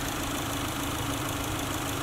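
A 2020 Subaru Outback Onyx Edition XT's 2.4-liter turbocharged boxer engine idles steadily, a loud, constant broadband hum with a low rumble heard up close.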